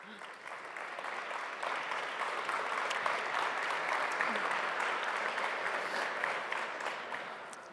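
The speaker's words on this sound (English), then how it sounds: "getting applauded for walking on stage" Sustained applause from a festival audience as speakers walk onto the stage at a talks session, a broad, even wash of many hands clapping that swells and holds, with faint voices under it.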